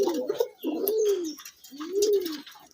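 A pigeon coos close by in two long, rolling calls with a brief pause between them, with faint chirps in the background.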